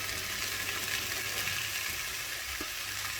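Mushrooms and peppers fry in a pan of vegetables for pea soup, a quiet steady sizzle with a few faint stirring clicks, heard alone at low level.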